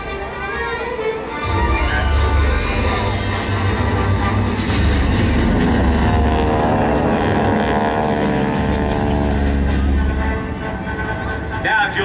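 GEICO Skytypers propeller aircraft at an air show making a low-altitude pass, a loud steady drone that swells in and holds for several seconds before easing off, with an announcer's voice talking over it.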